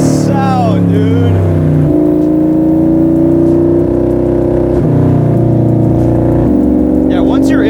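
A Gen 3 Coyote-powered Shelby Cobra R engine roars and revs through several gear changes, pitch climbing and dropping in steps, close and continuous, with brief speech at the start and end.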